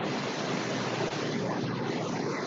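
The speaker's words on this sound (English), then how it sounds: "someone's outside and it's windy" Wind blows outside during a phone call, a steady broadband rushing and buffeting against the microphone with no other sounds.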